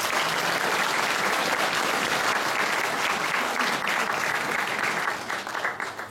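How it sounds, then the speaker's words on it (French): Conference audience applauding a speaker at an agriculture talk, dense steady clapping from a full room that holds strong before tapering off at the end. "Alors je vous demande d'applaudir M."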